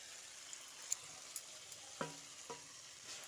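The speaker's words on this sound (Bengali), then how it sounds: "আলু ও পটলটা দিয়ে মশলার সঙ্গে আরও কিছুক্ষণ কষিয়ে নিতে হবে" Fried pointed gourd and potato get stirred through a spice masala in a pan, a quiet low sizzle broken by a few sharp spatula clinks and scrapes against the metal.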